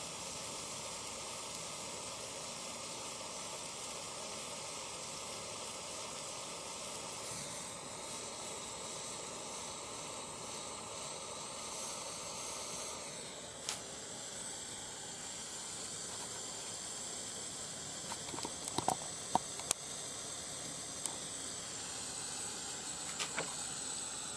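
A torch flame melting the edge of a metal ring makes a steady, faint, continuous roaring hiss that holds for a long stretch, with a few small pops and ticks near the end.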